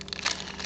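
A plastic bag holding small robot assembly parts and mechanical components crinkles continuously and fairly quietly at close range, with soft crunching peaks and no talking.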